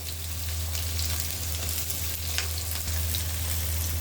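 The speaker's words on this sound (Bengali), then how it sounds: "গরম তেলে এখন লাল লাল করে ভেজে নিব।" Garlic, green chili and chopped onion sizzle and fry in hot oil, a steady crackling hiss with occasional stirring clinks, fairly quiet and close, with no talking.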